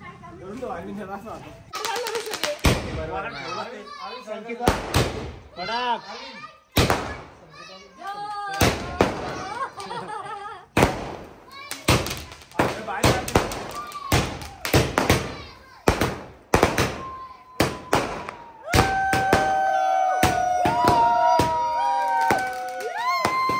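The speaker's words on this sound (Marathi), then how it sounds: "आम्ही वरती पण फटाके फोडले आणि खाली पण आणले फटाके फोडायला" Firecrackers burst repeatedly at a birthday celebration, with sharp loud bangs in irregular bursts and some crackling runs. Children's voices and excited chatter continue throughout, and a whistling tone is heard near the end.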